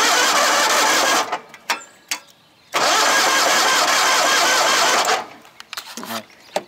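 Toro Proline 724 Z older-style zero-turn mower engine cranking and catching in loud bursts, then dropping to a low, uneven idle, with a voice speaking nearby.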